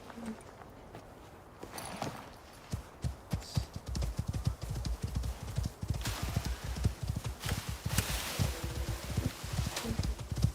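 Horse hooves clip-clop in a steady, rhythmic walking gait in the survival video game Icarus, with fairly close, repeated thuds that pick up slightly in pace, with some faint background noise.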